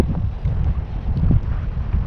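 Strong wind buffets a fishing boat at sea, a constant low roaring rumble of gusts against the microphone with no voices heard.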